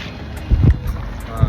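A boat moving on water at El Nido, Palawan, with splashing and low wind buffeting close to the microphone; short and fairly loud.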